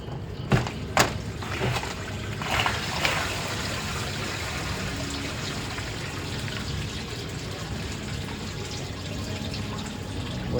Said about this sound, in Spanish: Voy a esperar que se baje el agua a la tina.